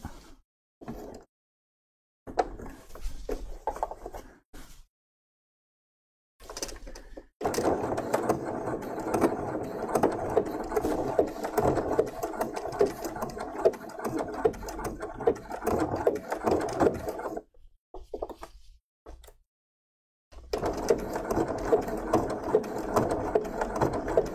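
A home sewing machine stitches a Burda 7142 coat in bursts of close, steady mechanical whirring, broken by several short silent pauses between runs.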